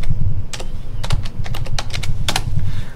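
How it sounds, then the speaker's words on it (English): Rapid keystrokes on a computer keyboard while a name is typed into a gradebook group, a handful of sharp near clicks in uneven bursts over a steady low background hum. "You just click on the group, type in a name,"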